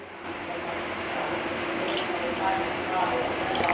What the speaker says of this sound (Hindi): इसमें हम पानी भी डालेंगे।